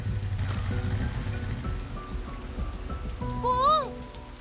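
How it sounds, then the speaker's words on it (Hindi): Steady rain hisses on a surface throughout, with a low background rumble and a short rising electronic-sounding tone near the end. "ये फोन में अभी बारिश नहीं आना था"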